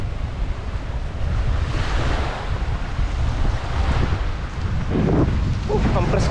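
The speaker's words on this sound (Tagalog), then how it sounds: "Ang lakas ng dagat namin ngayon" Sea waves wash in at the shore under strong wind, rumbling surf with gusts buffeting the microphone, and a few faint splashes near the end.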